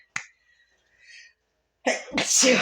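An allergy sneeze bursts out close and sharp, then after a quiet pause a second noisy sneeze with a breathy intake follows, each loud and sudden with faint room quiet between.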